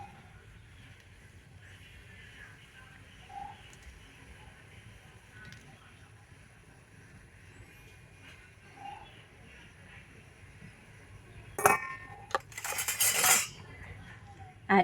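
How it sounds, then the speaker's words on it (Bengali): A knife chops mangoes into small pieces, soft faint taps under a quiet background, then a louder burst of clattering metal and dishes near the end. "আর এবার আমি ছুরি দিয়ে আমগুলোকে এইভাবে একটুখানি ছোটো ছোটো করে কেটে নেব।"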